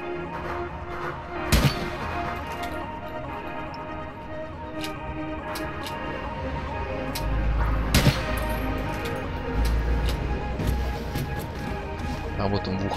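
Gunfire in the APB Reloaded online shooter: two sharp, loud shots stand out about six seconds apart over a steady hum of game ambience, with a few fainter clicks between them.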